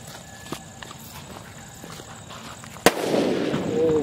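A grenade bomb firecracker going off outdoors during Diwali: a few faint pops, then one sharp loud bang followed by crackling, hissing burn and rising noise.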